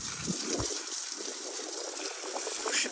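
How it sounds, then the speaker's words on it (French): Water sprays steadily to rinse beach salt off a horse at home after a gallop on the sand, a continuous close hiss and splash with slight variations and no voices. "la douche pour le canasson."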